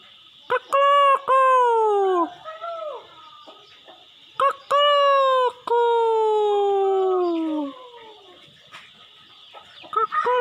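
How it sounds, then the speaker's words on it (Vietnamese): A bantam rooster gives two long crows close to the microphone, each with a short clucking lead-in, over a steady high insect-like hum. "Đây nhá, đây là con gà tre."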